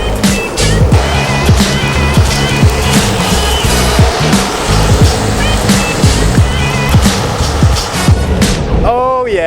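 Meepo NLS electric skateboard cruising in its second speed mode, with a steady loud rolling roar of wheels over pavement, repeated clacks and bumps from cracks, and wind rushing throughout.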